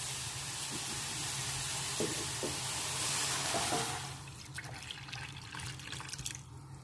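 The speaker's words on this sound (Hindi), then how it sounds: "अब ये मैं इसमें 6 किलो के करीब दूध डाल रही हूँ।" Roughly six kilos of milk poured into a pot of grated carrots for carrot halwa, a steady liquid rush that runs continuous at close range, brightening midway and then thinning into splashy trickles.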